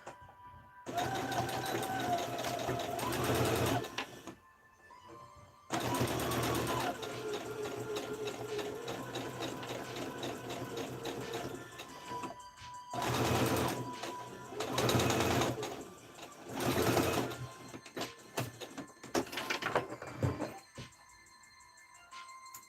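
Sewing machine stitching closed the seam of a fabric Easter bunny, running in several close, steady bursts of whirring with short pauses between them.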